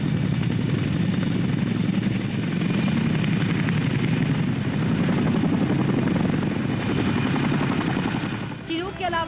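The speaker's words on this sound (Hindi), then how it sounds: "ये चिनूक है, इसे भी भारतीय वायुसेना ने अमेरिका से खरीदा है।" An Indian Air Force Chinook twin-rotor helicopter at Leh roars continuously nearby, a loud, dense rotor chop and turbine drone filling the whole stretch without pause.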